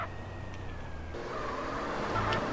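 A Nissan Skyline speeds through traffic in GTA San Andreas, its engine droning steadily and rising in pitch as it accelerates, with faint road noise underneath.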